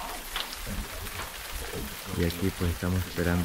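Steady early-morning rain pours down at a mountain camp near Pico Dama, a continuous soft hiss throughout while someone speaks over it in the second half.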